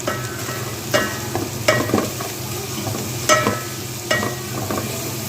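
Spring onions and vegetables for egg fried rice sautéed and stirred in a hot pan, a steady sizzle broken by four or five sharp scraping strokes of the spatula at irregular intervals, close and fairly loud, no voices.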